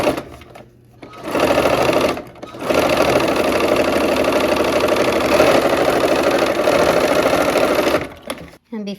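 A sewing machine stitching a quilt block of pinned triangles runs in steady, even bursts, starting briefly, pausing, then humming continuously for several seconds before stopping, close and loud.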